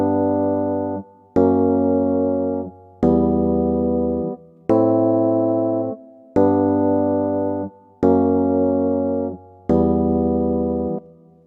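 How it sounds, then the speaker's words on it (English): A vintage electric piano sample in an FL Studio beat plays a simple melody of sustained chords, seven evenly spaced notes each held about a second and a half, loud and alone. "I got the vintage EP from Purity, and I just sort of like played simple melodies to it."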